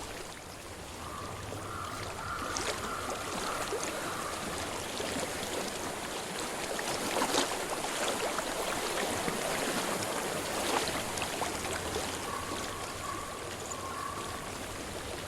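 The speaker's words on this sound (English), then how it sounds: "I hear water." Water flows steadily in a stream within Hellblade: Senua's Sacrifice, a soft, continuous broadband rush with faint splashes and a few brief tonal hums over it, fairly quiet and free of speech.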